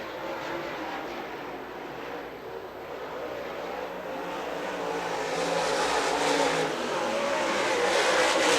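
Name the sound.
late model race cars racing around the track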